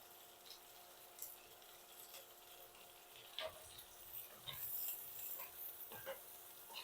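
Crushed garlic with green chillies frying in a pan, a faint steady sizzle with light stirring scrapes and occasional soft clinks, no voices.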